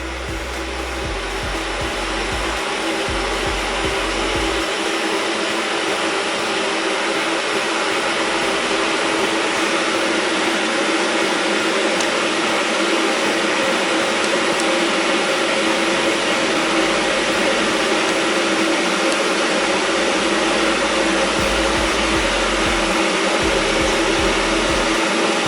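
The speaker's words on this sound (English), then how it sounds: "You can hear it boiling anyway." A Bosch Town stainless steel electric kettle, holding about a litre, boils water with a loud, steady roar and hiss that stays constant and close for the whole stretch, with no voices.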